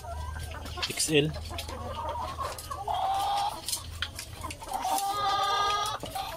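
Backyard chickens cluck and call close by in a small poultry yard, with repeated clucking bursts and rising cackles over a low hum, and a person speaks briefly.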